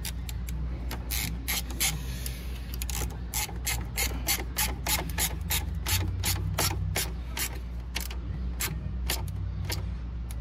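An 8mm socket ratchet tightens a bolt on a Honda GL1500 Goldwing motorcycle with rapid, close clicking, repeated bursts of sharp pawl ticks in a steady back-and-forth rhythm over a low background hum.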